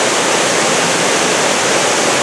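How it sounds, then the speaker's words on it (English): Ranger Falls on Ranger Creek at Mt. Rainier National Park, a steady loud rush of falling water, broadband and unbroken, heard up close with no other sounds. "and this is the falls."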